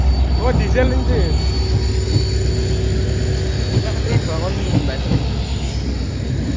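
A diesel locomotive engine near a railway line gives a heavy, continuous low rumble with a steady drone, loud and close, while voices talk over it.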